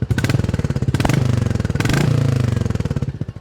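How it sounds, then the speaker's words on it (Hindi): A Royal Enfield Classic 350 motorcycle idles with its exhaust close to the microphone, giving a loud, regular thump-thump pulse with a couple of slight blips in engine speed, with no talking. "अगर मैं माइक यहाँ से निकालता हूँ और यहाँ लगाता हूँ तो आपको कुछ इस टाइप का थंप मिलेगा।"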